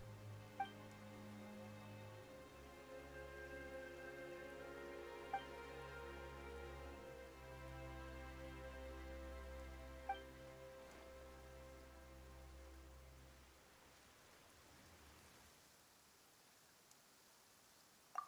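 Rain falls in the Genshin Impact video game, a soft, even patter held under a layer of sustained music tones and occasional bright chimes, easing slightly toward the end.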